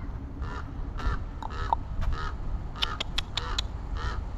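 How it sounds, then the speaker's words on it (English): A big crow caws repeatedly outdoors, a series of harsh calls in uneven bursts at moderate distance over low background hum, with no talk. "Big crow."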